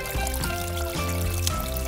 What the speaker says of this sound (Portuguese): Agora a gente vai pegar um pouquinho de água aqui da bica.